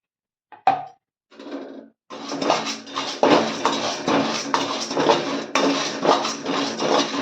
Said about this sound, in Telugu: ఇవి గుమ్మడి గింజలు ఉన్నాయి ఇవి కూడా వేసుకుందాం